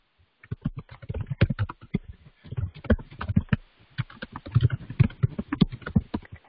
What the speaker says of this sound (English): Can you hear what I'm typing?